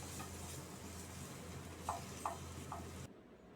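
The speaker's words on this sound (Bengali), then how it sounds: "এপিঠ ওপিঠ দুপিঠই একটুখানি হালকা করে সটে করে নিতে হবে" Paneer pieces fry lightly in oil, a soft, even sizzle with three small taps of a utensil against the pan near the end before the sound drops away, quiet and close.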